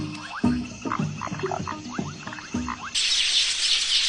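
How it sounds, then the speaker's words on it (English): Foam frogs at a waterhole croak in a dense, overlapping chorus of short rhythmic calls with insect-like chirps, before a sudden switch to a loud steady hiss near the end. "It's been a long night for the foam frogs, and they're beginning to tire."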